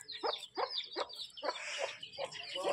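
Chickens cluck in short, repeated bursts close by as they are fed rice at a home, a busy, choppy run of calls with no talk over them.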